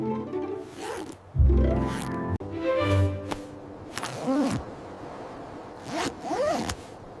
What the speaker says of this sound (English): Ethan, zip up your jacket.